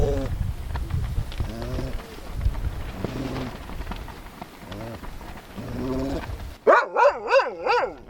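A dog whines and yelps in repeated short, rising and falling cries amid close rustling and movement outdoors, ending with a louder run of high, pitched whimpers near the microphone.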